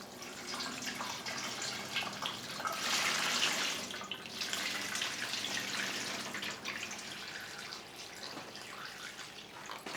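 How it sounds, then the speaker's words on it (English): Water pours and splashes into a pot for boiling duct tape, a steady broadband rush with brief dripping, growing fuller midway then easing, close and fairly loud with no talk. "Now we just need to add some water."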